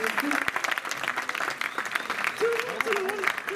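Audience applauding a team at a live French event, a dense, steady clapping crowd that carries on throughout with someone talking over it.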